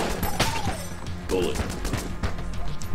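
Rapid, dense gunfire from a weapon in the roguelike shooter Enter the Gungeon, with rattling shots, impact crashes and game effects layered over each other, loud and continuous from start to finish.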